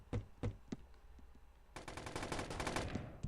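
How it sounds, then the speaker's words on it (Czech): In the video game Boring Man, a few isolated shots crack out, then a rapid burst of automatic gunfire rattles loudly for over a second before stopping. "slyším střelbu"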